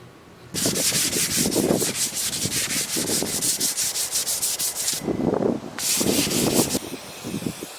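Wood being sanded with steady back-and-forth rubbing strokes, loud and close in two long bursts separated by a short pause, with no talk.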